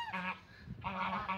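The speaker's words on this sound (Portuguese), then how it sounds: "Vamos olhar aqui os gansos." Geese bathing in a farmyard pool give several nasal honks in two short clusters, fairly faint and a little distant, with no talk over them.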